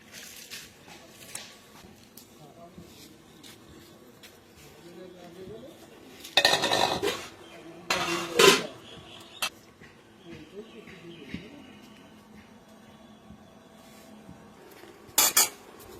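Soaked home-grown masoor dal being tipped into water in a cooking pot, heard as two short splashy clattering bursts with metal pot and utensil clinks, near and moderately loud, between quieter kitchen handling noises.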